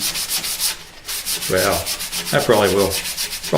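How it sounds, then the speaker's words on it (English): Steady rhythmic scraping of 150-grit sandpaper on an electric guitar's wooden body, a rapid back-and-forth rasp, with a brief pause near the start and a voice talking over the second half. "when I started sanding with the 150"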